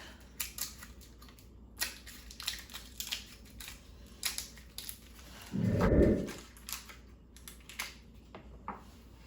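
A salted caramel peanut butter cup is cut open with a knife, giving one dense, close crunching and squishing burst of about half a second amid faint, scattered ticks and small handling clicks.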